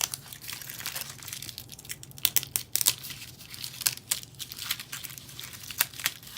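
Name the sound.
peeling off a masking strip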